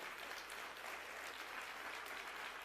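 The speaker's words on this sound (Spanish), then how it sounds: "Dale ese aplauso fuerte al Señor" A church congregation claps steadily and evenly, a dense wash of applause that holds at the same level throughout.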